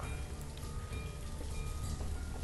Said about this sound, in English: it's too dark when it rains